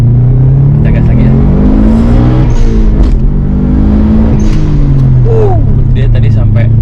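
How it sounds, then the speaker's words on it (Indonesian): A Subaru WRX STi Type RA (GC8) engine revs hard and loud close by, a steady roaring drone with rising and falling pitch sweeps as the throttle is blipped, while people talk over it. "Dia tadi kita gas sampai RPM 8000"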